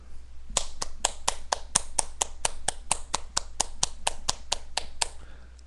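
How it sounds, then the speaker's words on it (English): Steady hand clapping, about twenty sharp claps in an even rhythm, close and fairly quiet, with no voices. "I give you a round of applause."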